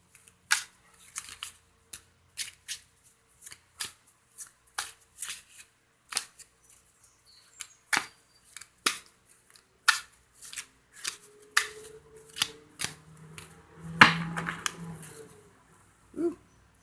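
A new deck of tarot cards being shuffled up close, crisp riffling and snapping bursts repeating unevenly, with soft handling sounds between and a brief low murmur near the end.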